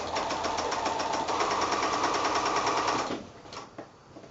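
A sewing machine stitches a narrow quilt flange in a steady, fast run lasting about three seconds, then stops, leaving a few soft handling clicks.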